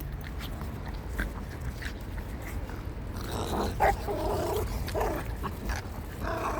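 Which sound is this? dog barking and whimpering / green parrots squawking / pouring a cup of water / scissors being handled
dog barking and whimpering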